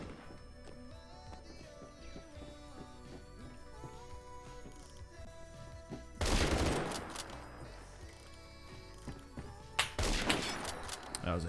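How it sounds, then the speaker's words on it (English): Shots ring out in a Roblox shooter game, with a loud burst of gunfire around the middle and another sharp crack near the end over steady game music and ambience. "That was a headshot."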